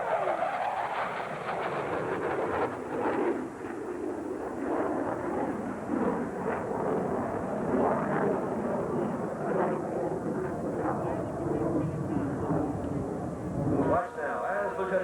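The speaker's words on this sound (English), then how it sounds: "The Hornet is built by the McDonnell Douglas Aircraft Corporation, powered by two General Electric F404 turbofan engines." An F/A-18 Hornet jet, built by McDonnell Douglas and powered by two General Electric F404 turbofans, roars steadily during an air show flight demonstration while a loud announcer talks over it for the whole stretch.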